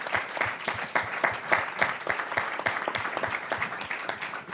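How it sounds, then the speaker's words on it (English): An audience at a tech panel on entrepreneurship gives the panelists a round of applause, moderately loud clapping with distinct individual claps in a fairly even, continuous patter. "Please join me in giving a round of applause and thank you to our panelists."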